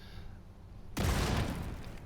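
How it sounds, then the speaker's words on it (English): Concussion grenade detonating in Tom Clancy's The Division 2, an abrupt loud boom cutting in after quiet game ambience and trailing into a sustained rumbling blast tail. "That explosion will take out that gingerbread man."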